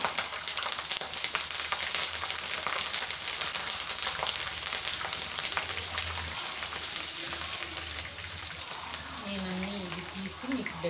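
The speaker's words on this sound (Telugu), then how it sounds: "ఇలా దోరగా వేగాలండి చిల్లీస్." Green chilies fry in a pan for a chicken 65 pepper dish, giving a continuous, close, crackling sizzle like steady rain, with a voice briefly heard near the end.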